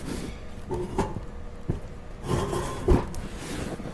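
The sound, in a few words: powder coating oven door latches being opened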